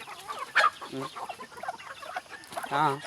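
Chickens on a farm cluck and squawk in short bursts close by, with a couple of louder calls standing out, over faint outdoor background.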